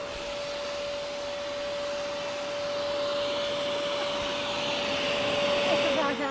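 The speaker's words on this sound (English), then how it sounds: "You can shut the vacuum off." A vacuum cleaner runs steadily up close, a constant whining hum and airy rush that swells slightly toward the end.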